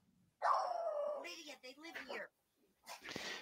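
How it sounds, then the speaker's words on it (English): Two dogs bark at a distance, one of them a small beagle, in irregular bursts of yips and barks with brief pauses between them. A voice talks over part of it. "these two are mine that are barking right now. And the louder one is just a little tiny beagle."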